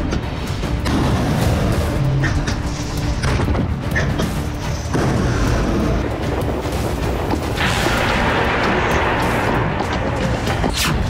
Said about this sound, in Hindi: रशियन फोर्स ने रॉकेट लॉन्चर्स और आर्टिलरी से हमला किया।